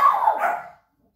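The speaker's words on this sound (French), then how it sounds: "j'ai laissé passer les chiens qui aboient" Dogs barking in a quick burst of several overlapping yaps and barks, fairly close and loud, then cutting off into silence.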